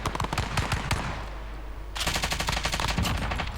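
Rapid automatic gunfire in Call of Duty: Warzone, loud sustained bursts of machine-gun shots broken by a brief pause, then another dense volley, with no speech.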